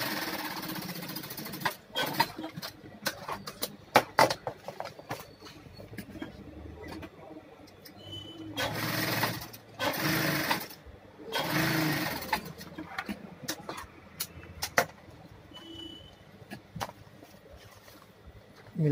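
A sewing machine stitches a bucket seat cover for a Mahindra KUV 100 in bursts of rapid mechanical whirring, separated by pauses with handling noises and occasional quiet talk.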